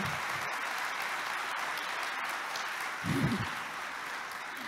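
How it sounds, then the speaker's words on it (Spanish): Steady applause fills a hall at an agro-industry presentation on the sugarcane sector. The clapping is sustained and even throughout, with a brief louder swell midway. "Este aplauso es para ustedes."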